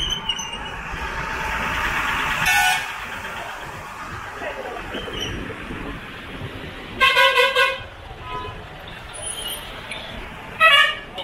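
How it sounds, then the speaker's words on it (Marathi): Big trucks stuck in a traffic jam at the weekly Phondaghat market in Konkan blare three separate horn blasts, one long and two short, over a murmur of engines and people talking. "इकडे आता 2 मोठमोठ्या गाड्या आल्यामुळे ट्रॅफिक जाम आहे"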